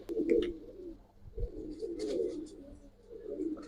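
Giribaz pigeons, a silver Kaldom old-breed type, coo in soft repeated throaty rolls close by, several calls overlapping in a quiet space.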